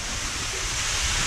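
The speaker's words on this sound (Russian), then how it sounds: "Водопад." Waterfall pouring inside a drainage tunnel, a steady loud wash of rushing water filling the space with dense, even noise and no voices.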